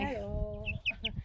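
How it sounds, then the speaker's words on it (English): A young backyard chicken, likely a rooster, giving short bursts of clucks close by, with a person speaking over the start. "although I think she's a rooster, actually."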